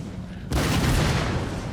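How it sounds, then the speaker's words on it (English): Cannon fire in the Empire: Total War video game: after a quiet half second a loud, sustained rumbling boom takes over and rolls on to the end, with battle noise mixed in. "Because they're about to use the cannon."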